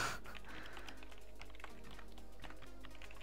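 Fast typing on a computer keyboard, a steady run of quick close clicks and taps with no talking.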